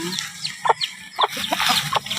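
Several chickens cluck in short, irregular bursts close by, their calls overlapping in a busy, chattering flurry.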